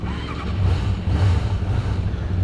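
A 1994 Suzuki GSX600F motorcycle engine runs close by with a low, throbbing rumble that swells slightly partway through.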